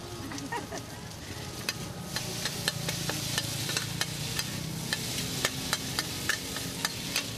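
A Thai street vendor stirs pad thai in a wok with a wok turner, a steady loud sizzle of frying noodles broken by regular sharp metal scrapes and taps against the pan, close up with no talking.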